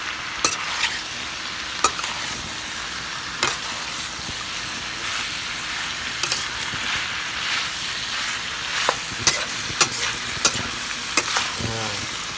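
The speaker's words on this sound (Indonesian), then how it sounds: "Kita aduk-aduk dulu supaya bumbu tercampur rata." Spicy beef stir-fry with spices being stirred in a pan: a steady sizzling hiss runs throughout, broken by sharp, irregular scrapes and clacks of a utensil against the pan.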